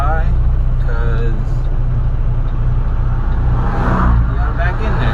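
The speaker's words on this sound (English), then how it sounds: "Gotta wait until this traffic goes by" Road traffic rumbles steadily past on a street, a loud, close wash of engine and tire noise with vehicles swelling as they go by, and brief voices underneath.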